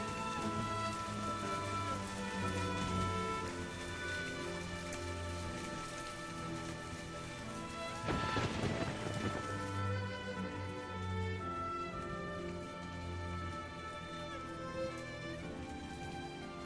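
Heavy rain falls steadily and densely, a continuous close hiss of drops hitting surfaces with no break, with one brief louder surge partway through.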